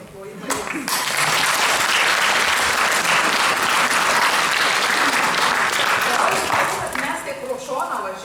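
Sustained, loud audience applause at a folk ensemble concert in Vilkaviškis, dense clapping swelling quickly and holding steady for several seconds before tapering slightly.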